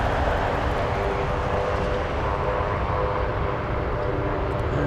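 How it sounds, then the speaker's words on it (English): Steady, continuous aircraft engine rumble from a Beech 1900 or Boeing 777 at an Anchorage cargo airport, a broad constant drone heard at a distance for the whole stretch with no talk over it. "I hear a Beach 1900. But I also hear 777s."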